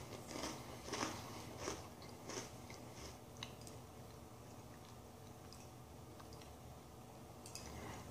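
Close, crisp crunching bites into Reese's peanut butter and chocolate Oreo cookies, a burst of sharp crackles in the first few seconds tapering into quieter chewing.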